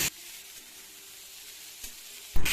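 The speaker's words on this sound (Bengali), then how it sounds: "আলুগুলোকে ভাজতে ভাজতে বরবটিগুলোকেও দিয়ে দিচ্ছি এই আলুর মধ্যে।" Potatoes and yardlong beans frying together in hot oil in a pan, a steady soft sizzle throughout with louder bursts at the start and end as the vegetables are moved.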